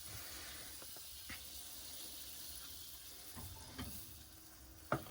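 Blueberry pancakes fry in a pan inside a Winnebago Solis 59PX camper van, giving a steady low sizzle with a few soft clicks and taps of a utensil, ending in one sharper knock.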